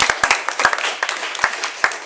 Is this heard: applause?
yes